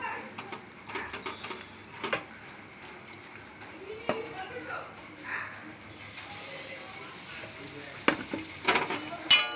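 Thin-sliced brinjal fritters (beguni) sizzle in hot oil with a steady, hissing crackle, broken by occasional sharp clinks and clatters, while a voice speaks now and then over the frying.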